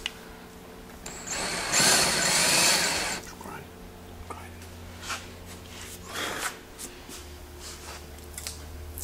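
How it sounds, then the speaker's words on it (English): A power drill bores a hole for a wakeboard tower on a Mastercraft boat, a loud whirring burst of about two seconds, followed by scattered faint clicks and handling noises. "Once we get our hole drilled"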